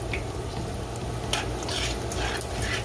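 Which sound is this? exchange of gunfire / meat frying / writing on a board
meat frying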